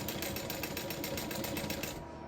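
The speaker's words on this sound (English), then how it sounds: "I'm gonna baste it before I sew it out together." A sewing machine runs a long basting stitch through a leather sling bag, a fast steady mechanical whir with rapid needle pulses that continues close up and stops abruptly at the end.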